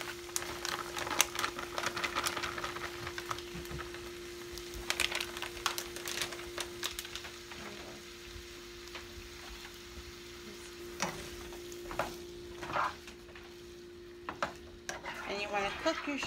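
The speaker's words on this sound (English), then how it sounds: "we're cooking the oil and the garlic, and I'm going to add my shrimp" Shrimp sizzling in hot oil with garlic in a pan, a steady close frying crackle with intermittent stirring scrapes and clinks, with a voice talking at times.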